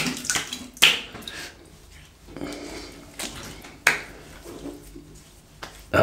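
Water splashes in quick, sharp bursts as a face is rinsed after shaving, with a few separate handfuls of water and quiet pauses between them.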